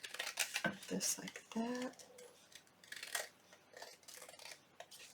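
Scissors snip through paper while crafting a junk journal envelope pocket, several short crisp cuts in quick succession, close by, heard between bursts of a woman's chatter.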